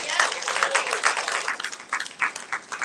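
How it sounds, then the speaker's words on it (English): Audience applause for a speaker named Laura Jones at a Sunday talk, a dense steady patter of many hands clapping close by for about three seconds with no talk over it. "Please give a round of applause for Laura Jones."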